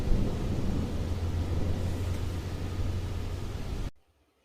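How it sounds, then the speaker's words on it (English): A storm with steady rain and wind, rushing broadband noise and a low rumble that sounds like thunder, holding even and fairly loud for about four seconds, then cutting off abruptly to near silence. "It began to rain. The wind made the shutters shake."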